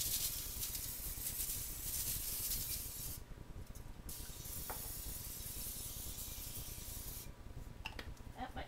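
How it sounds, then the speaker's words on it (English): An aerosol cooking spray can sprays onto aluminum foil over a cookie sheet, a faint, close hiss in two long bursts separated by a brief pause, sputtering slightly as the can runs low. "spray the heck out of it."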